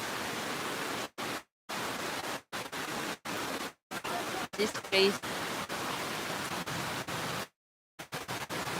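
Dense, steady hiss of heavy rain pouring down, broken by several abrupt silent gaps, with a voice briefly speaking over it.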